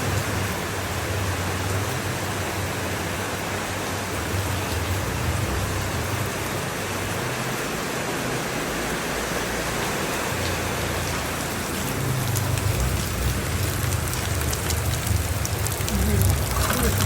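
Hard rain pours steadily at a resort, a dense, loud, continuous hiss of drops on surfaces lasting the whole stretch with no pauses.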